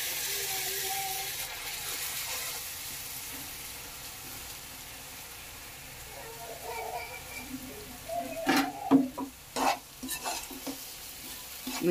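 Ground masala fries in a pan with Catla fish, a low steady sizzle that grows busier, followed by a run of sharp clattering stirs of a spoon against the pan, close and moderately loud.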